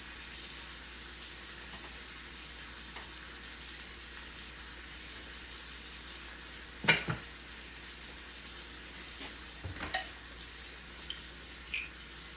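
Steak with rosemary, garlic and butter sizzles steadily in a pan over lowered heat, a soft continuous frying hiss broken by a few sharp utensil clinks near the end.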